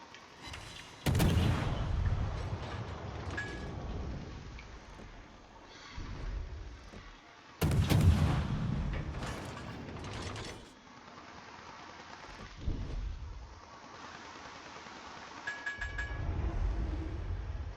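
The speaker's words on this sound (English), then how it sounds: "Now I can see his guns firing." Naval ship guns fire in World of Warships as a series of heavy booming salvos, some sharp and close, others duller and more distant, spaced irregularly with quieter rumbling gaps between them.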